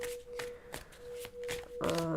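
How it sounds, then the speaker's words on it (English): Decks of cards are shuffled by hand in a quiet room, giving a series of crisp riffling bursts and taps in an uneven rhythm, closing with a longer, denser shuffle. "I'm gonna shuffle every deck that I have here and pull the cards."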